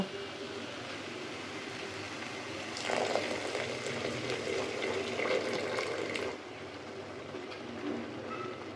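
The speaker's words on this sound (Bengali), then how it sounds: "গরম পানি দিয়ে দেব" Hot water poured into a pot of simmering lentils makes a rushing, bubbling pour that swells for about three seconds amid a low boiling hiss, without speech.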